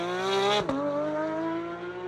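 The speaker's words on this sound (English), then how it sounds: "this naturally aspirated flat 6 revs to the moon and delivers a soundtrack that'll make your hair stand on end" A Porsche Mezger 4.0-litre naturally aspirated flat-six holds a loud, steady high-pitched engine tone, with a brief dip and pitch step partway through before settling into a sustained near drone.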